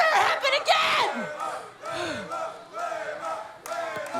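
A wrestling arena crowd roars and yells in rolling waves behind close shouted voices, cheering for the women's champion.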